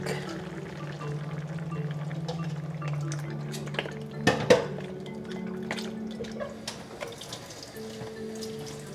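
Coconut milk pours into a cooking pot of adobo, a soft liquid splash with a few clinks of utensil against the pot, fairly quiet against a low background hum.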